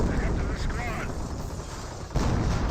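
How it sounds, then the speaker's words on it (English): Creeping Barrage artillery in Company of Heroes rumbles as heavy shell impacts, booming and dense with a sharper blast near the end, while a voice talks over it. "It has to be a Creeping Barrage."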